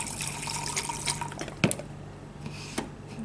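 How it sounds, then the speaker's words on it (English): Water squirted from a rinse bottle over a pH probe in a lab setting, a soft trickling spray with a few small drips and a clear knock or bump partway through. "I'm going to rinse the pH probe off with some water"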